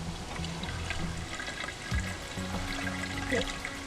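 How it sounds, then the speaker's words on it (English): Liquid system flush pours steadily into a car's engine coolant system, a continuous gurgling, trickling stream that runs for several seconds over a faint low hum, with no voices. "So I'm gonna run some total system flush in it."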